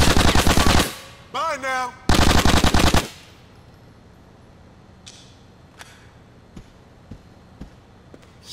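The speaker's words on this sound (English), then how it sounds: "We're being shot at." Machine-gun fire in the video game GTA: The Ballad of Gay Tony, two loud sustained bursts of rapid shots close by, then scattered single cracks fading farther off, with a brief voice in between.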